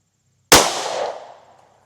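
A single 9mm shot from an HK CC9 pistol firing Federal HST 124 gr +p ammunition: one sharp, loud crack out of silence, followed by a ringing decay that fades over about a second.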